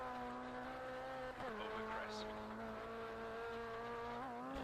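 Seat rally car in Rallisport Challenge 2 on a wet stage, its engine holding a steady high whine with a brief dip and shift, heard continuously and fairly faint behind a game mix.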